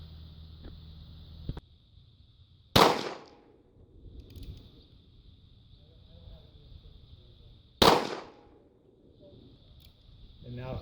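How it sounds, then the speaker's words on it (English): Two sharp, loud shots from a Heritage Rough Rider .22 revolver with a 4 3/4 inch barrel, fired several seconds apart outdoors, each with a brief decaying tail over faint background hum. "This is the Heritage Rough Rider. It's a 4 3/4 inch barrel."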